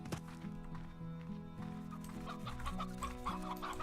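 Hens cluck in the Slime Rancher video game, including Briar hens, with steady overlapping clucks and game sounds over a continuous background.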